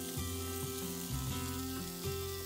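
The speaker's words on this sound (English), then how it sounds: "You know you're off to a good start when that bacon goes sizzle, sizzle" Bacon fries in a hot pan with a steady, close crackling sizzle, alongside low tonal hum from the kitchen.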